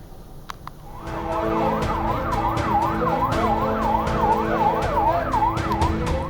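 An ambulance siren wails steadily with a rapid rising-and-falling yelp, loud and close, as the vehicle arrives at Indonesia Hospital in Beit Lahia, northern Gaza, over engine and road rumble.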